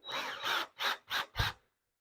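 A power drill driving into a garage ceiling for in-ceiling speaker installation whirs in several short bursts, one long run followed by three quick pulses, close and fairly loud, then stops.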